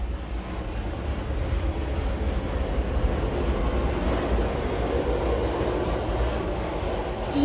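An airplane passes overhead as a steady, broad, rumbling roar that stays even throughout, with no one speaking.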